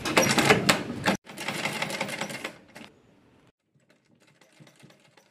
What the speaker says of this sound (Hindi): फिर ये वाली चीज इस तरह रख के ऐसे सिलाई लगा लेनी है।